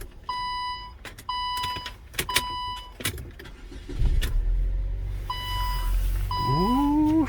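Door chimes and beeps ring in repeated bursts before the 2011 Saab 9-3 2.0t, with 136,000 miles, cranks with a rising whine and settles into a low, smooth idle under chiming close by.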